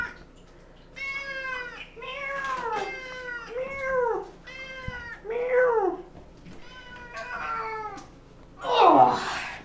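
A cat meows repeatedly while being bathed, a string of about eight drawn-out, wavering cries close by, ending in a harsher splashing burst.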